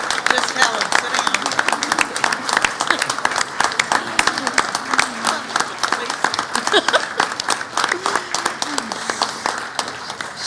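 An audience at an annual business meeting applauds steadily and loudly with dense, continuous clapping, mixed with crowd murmur and a few voices throughout.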